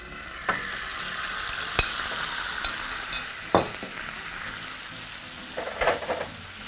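A pork chop mixture with apple and mango going onto a hot pan: a light steady sizzle punctuated by several sharp clicks and scrapes as pieces are placed and moved, close and alone.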